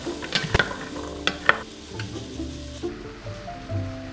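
Shallots, celery and carrots with ginger powder sweating in an oiled pan, a soft sizzle under several sharp utensil taps and stirring scrapes, then a quieter low hiss.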